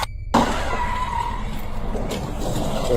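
A speeding car's tires skid and squeal loudly during a road crash, with a sustained harsh screech over heavy rumbling noise after an abrupt start.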